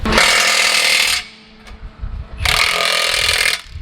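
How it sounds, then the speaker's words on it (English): An impact wrench hammers on the wheel nuts of an AGCO tractor tire in two loud, close bursts of about a second each, with a short pause between them. "Now if you notice, DJ is torquing that to the proper specs of 4 Ugga-Duggas a piece."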